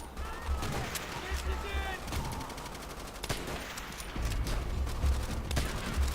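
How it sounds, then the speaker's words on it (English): Gunfire and grenade explosions in a Call of Duty game, a busy battle mix of scattered shots and low booming blasts, fairly faint and continuous, with a voice talking over parts of it. "And of course there's the grenade spam."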